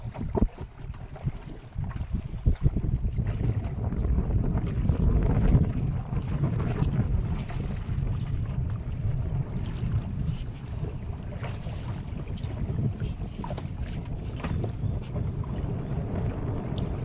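Steady wind buffeting in the middle of a river with low rumbling gusts, continuous and fairly loud, with faint water and boat movement underneath; no one speaks.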